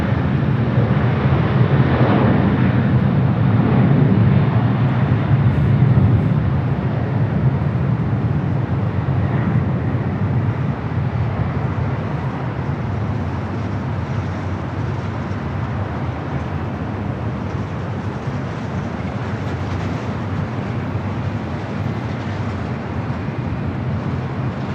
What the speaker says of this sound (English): Dreamliner heading to Tel Aviv, rolling down to 25 right.